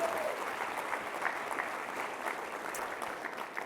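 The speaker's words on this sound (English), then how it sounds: "Please give a round of applause to the entire Omeda team for this." An audience at an industry event applauds the Omeda team, a dense, sustained roomful of clapping that holds steady throughout with no voice standing out.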